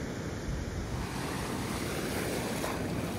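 Surf breaks on a beach at Isabela Island in the Galapagos, a loud, continuous wash of ocean waves mixed with buffeting wind noise on the microphone and no voices.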